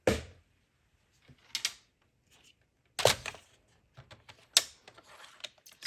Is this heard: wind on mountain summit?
no